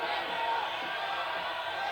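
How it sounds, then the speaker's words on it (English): A wrestling arena crowd chants during a seesaw match, a dense, continuous roar of many voices filling the hall at steady volume. "You can hear the crowd is starting to chant right now."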